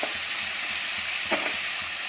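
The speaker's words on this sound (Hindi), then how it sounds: "अब इसमें प्याज डालेंगे और इसको गुलाबी होने तक भूनेंगे।" Chopped onions fry in hot oil for aloo pulao, giving a steady close sizzling hiss throughout with a few soft stirring clicks and no talking.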